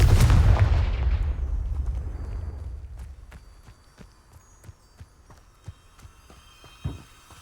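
A Confringo spell blast in the Hogwarts Legacy video game, heard as a loud booming explosion that decays over about three seconds, followed by a string of soft rhythmic thuds and clicks.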